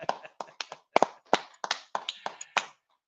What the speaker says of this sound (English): So hand claps, hand claps.